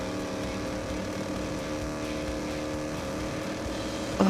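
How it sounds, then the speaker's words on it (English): Racing vehicle engines in a video game stack into one dense, steady mechanical drone, several buzzing motor tones layered together and sustained loudly throughout with no talk. "when the engine sounds pile up together, they sound awful"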